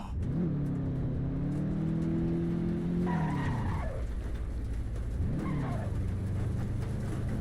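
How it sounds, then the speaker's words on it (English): Racing cars in the driving game Assetto Corsa Evo charge uphill, with a loud, close engine drone holding steady revs, then dropping and climbing again as gears change, with tyre squeal and skidding noise underneath. "got two cars on my left hand side charging up the hill"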